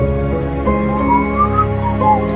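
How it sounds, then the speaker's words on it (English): A whistle echoes through a prison hall in a video game. It is one sustained, wavering pitched tone with a lingering ring, heard over a steady droning backdrop and fairly loud. "a whistle echoes through the hall."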